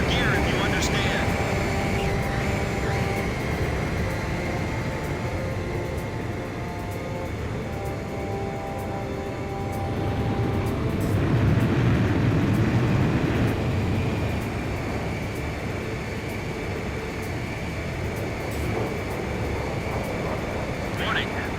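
A jet aircraft in the combat flight game Ace Combat 5 drones steadily with a continuous engine roar that swells slightly midway, heard under background music and radio-style voice chatter.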